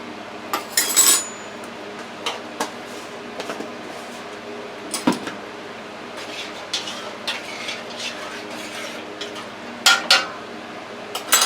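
Heaping tablespoons of chicken broth are added to a vegetable soup pot on the stove, a few sparse metal spoon clinks and taps against the pot amid quiet kitchen room tone.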